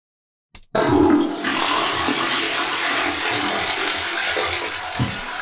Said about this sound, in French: le bruit de la chasse d'eau, on va la rajouter